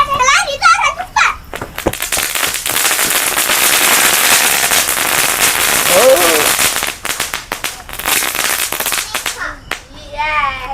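Firecrackers popping and crackling in dense bursts during Hari Raya night celebrations at a FELDA settlement, with children shouting and chattering close by between the blasts.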